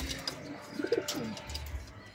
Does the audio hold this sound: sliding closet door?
no